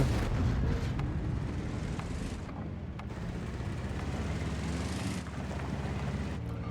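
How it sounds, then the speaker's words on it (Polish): A Concept No. 5 tank engine in World of Tanks drones in a steady low rumble, with a few faint clicks and no voices. "dźwięk silnika brzmi trochę jakbym grał niskotierowym pojazdem"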